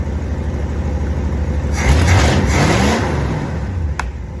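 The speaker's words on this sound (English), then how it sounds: "I want to get a back shot of it revving" Old project car's engine, with timing just advanced, idles and then revs up sharply near the midpoint before settling back, loud and close with a brief click near the end.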